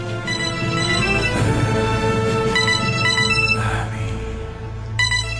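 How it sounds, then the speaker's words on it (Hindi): A melodic ringtone plays on and on, loud and close, its repeating musical phrases continuing without anyone answering. "भाई अब उठा लो ना फोन, 1 घंटे से बज रहा है।"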